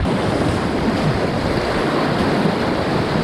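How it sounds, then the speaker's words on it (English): Kayak running a surf wave on river rapids, a loud continuous rush of churning whitewater with wind buffeting the microphone and no talk. "I think there's a surf wave coming up"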